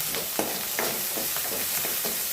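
Onions frying in oil in a pan, a continuous close sizzle broken by regular scraping stirs about every half second.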